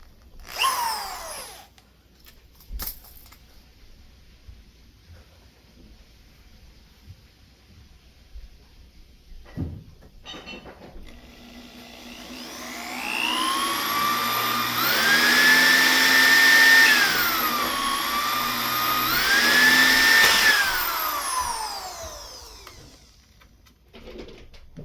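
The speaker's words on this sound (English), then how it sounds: "Drill." Power drill boring through a Premier floor tom drum shell: a few brief taps and clicks, then the motor whines up for a long loud drilling pass with pitch shifts as it bites, before winding down, with no talking.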